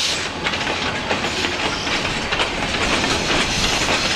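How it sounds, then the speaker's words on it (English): A freight train rolls steadily past on the rails, a continuous loud rumble with rhythmic clickety-clack of wheels and faint hiss, close by and unbroken throughout. "I would imagine this train is going to Pembine."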